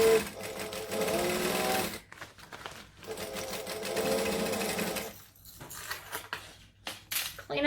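A sewing machine stitches a gusset at a stitch length of 2.5 in loud, sustained whirring runs, pausing briefly between bursts, close up with no talk.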